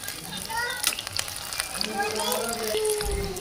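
Aloo chicken rolls frying one at a time in hot oil, a steady close sizzle and crackle running the whole time with a few louder pops and some background voices.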